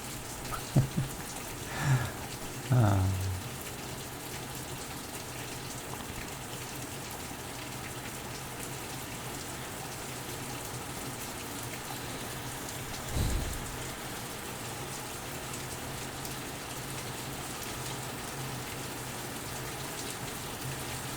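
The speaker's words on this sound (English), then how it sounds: "Now you guys get to have at least some nice rain audio." Steady rain falls in a dense, even hiss throughout, with a few soft low thumps and rumbles near the start and a brief one midway, no one speaking.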